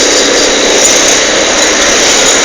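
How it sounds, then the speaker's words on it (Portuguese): A line of motorcycles moving through heavy traffic on a road in Brazil, a loud, steady, continuous engine roar and whine with no break and no talk. "Olha a fila de motoqueiro,"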